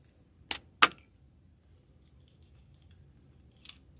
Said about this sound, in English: I'm going to cut this down and cut off the tag.